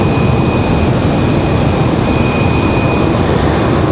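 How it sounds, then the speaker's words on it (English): Delta Airbus A220 jet airliner departing Raleigh-Durham airport, a steady loud broadband jet roar with a thin high whine held throughout, no talk over it. "Delta 1022, that A220 is off to Boston."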